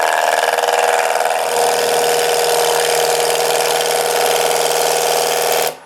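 Wood being roughed out with a gouge on a lathe: a loud, close, continuous whirring hum with a rough chattering texture that holds steady for several seconds, then cuts off abruptly near the end, with no voices.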